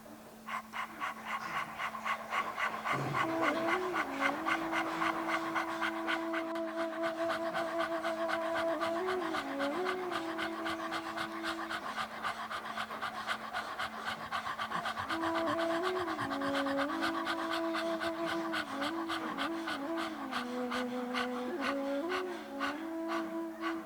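A person imitates a dog's panting in a yoga breathing exercise, with rapid, rhythmic short breaths through a wide-open mouth that continue steadily throughout over soft sustained background music.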